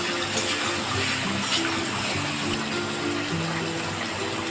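Water pours into a pan of hilsa fish curry as a steady, close gushing hiss that lasts throughout, with a faint tonal hum beneath.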